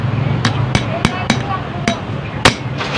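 A screw is tapped against the carburetor piston of a Mitsubishi 4G15 engine, giving about seven sharp, close metallic knocks at uneven intervals over a low background hum.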